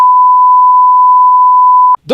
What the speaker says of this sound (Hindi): सीपीयू के अंदर से आवाज आ रही है, बीप बीप बीप बीप।